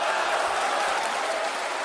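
Spectators at a World Series of Boxing semifinal, Astana Arlans against British Lionhearts, applaud in a steady wash of clapping and crowd noise for about two seconds while a commentator talks.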